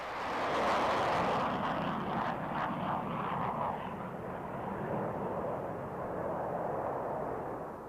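A Vought Crusader jet flies overhead with a loud, broad roar that peaks early and then settles into a sustained, slowly fading rumble with no voices.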